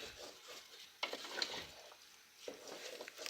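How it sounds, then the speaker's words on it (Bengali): Washed rice being stirred and fried in a pot for beef bhuna khichuri, soft intermittent scraping and gentle sizzling in quiet bursts, faint and close, without talk. "চালগুলো দিয়ে নেড়ে চেড়ে মিক্সড করে ভেজে নেব"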